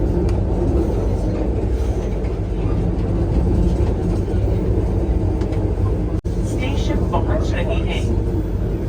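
Vande Bharat Express train running, heard from inside as a loud, steady rumbling roar that holds constant throughout, with a brief clunk near the end and faint voices in the background.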